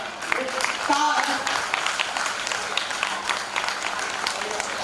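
Audience applause at a prize distribution ceremony with an IPS chief guest, a steady broadband clapping wash lasting throughout, with a brief voice heard near the start over the crowd.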